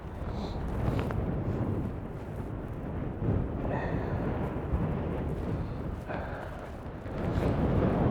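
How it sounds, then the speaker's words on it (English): Heavy gusts batter the microphone in a constant low roar, surging and dipping unevenly, with faint scattered sounds buried beneath the rumble. "It got really windy all of a sudden."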